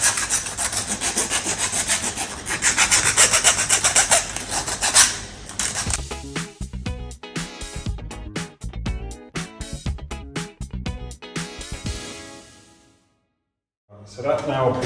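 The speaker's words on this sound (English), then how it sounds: "it's important to remove all the burrs." A file works the cut edge of guttering to clear burrs, a close, loud harsh rasping at first, then turning to quick rhythmic strokes, with a brief silent gap near the end.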